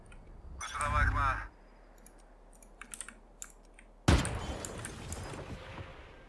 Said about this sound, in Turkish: Ya bir de çok klavye sesi gidiyor.